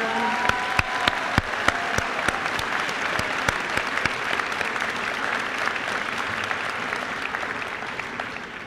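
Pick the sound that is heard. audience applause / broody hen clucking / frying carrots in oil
audience applause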